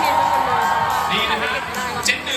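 A crowd at a charity event whoops and cheers loudly, with mixed shouting and clapping merged into a sustained roar and a few sharper yells near the end.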